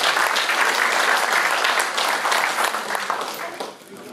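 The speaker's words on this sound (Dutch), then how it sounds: "Applaus." Dense applause from an audience at a farewell gathering, steady and fairly loud, then thinning out toward the end.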